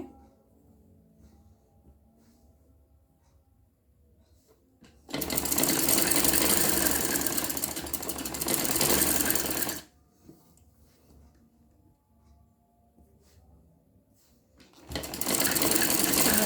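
A sewing machine stitches the neckline of a kurti in two loud, steady bursts, running for about five seconds, then pausing in quiet, then starting again near the end.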